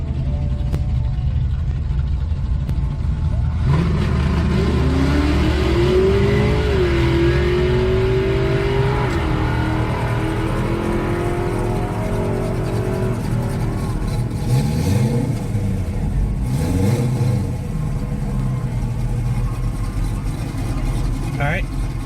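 A 2014 Chevy SS V8 revs at the track, its engine note climbing in two rising sweeps over a steady loud rumble, heard close up from inside the car.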